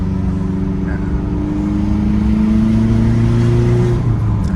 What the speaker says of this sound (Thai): นี่ลากเกียร์สองนะครับ รอบมันจะแบบว่าขึ้นเนินๆนะครับ